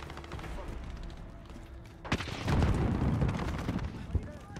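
Gunfire in a Call of Duty team deathmatch, a burst of loud shots and blasts erupting midway and rumbling on, with a voice talking in the quieter stretch before.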